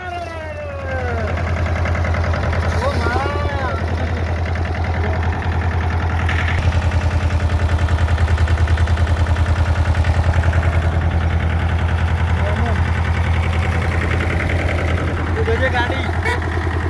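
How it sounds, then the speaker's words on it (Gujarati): A vehicle engine idles steadily with a low, constant hum just after starting, close by and fairly loud. Voices talk intermittently over it in a rural monsoon setting. "ગાડી ચાલુ કરી દીધી"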